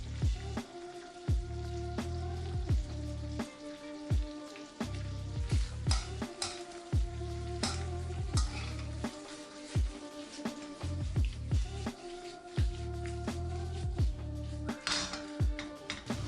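Prawns sizzling in a frying pan while cooking aglio olio, with a steady crackling fry broken by repeated sharp clinks and brief pauses, close and fairly loud, with no voices.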